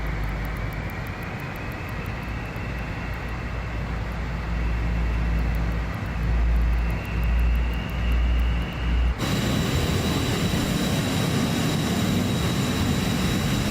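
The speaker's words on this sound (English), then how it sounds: "I love the sound of those engines spooling up." Lear 35 jet engines spool up in Microsoft Flight Simulator, a steady whine and rumble with a rising tone that shifts abruptly partway through into a brighter, harsher roar.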